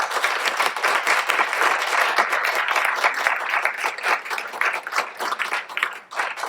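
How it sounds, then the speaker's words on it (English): At a book awards evening, an audience gives the five judges a warm round of applause, with individual claps distinct within a lively, fluctuating burst that begins to taper near the end. "can we please give the 5 judges who have read a huge number of books in not the longest time a massive round of applause"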